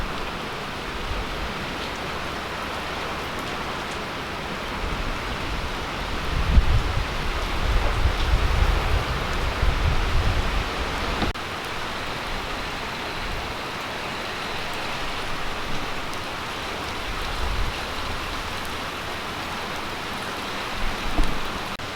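Light rain falling over a market garden outdoors, a soft continuous patter with faint gusts of wind, the hiss swelling briefly in the middle before settling back to a quiet steady wash.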